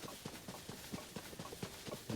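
Horse hooves clip-clop at a steady, even gait in the Zelda game Tears of the Kingdom, close and fairly quiet, about a dozen regular beats over a soft background bed.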